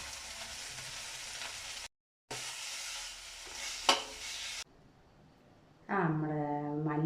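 Coriander leaf chutney ingredients sauté in a pan with a loud, steady frying hiss that breaks briefly, returns with a sharp scrape, then gives way to a person talking.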